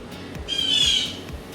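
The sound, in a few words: loud birds squawking outdoors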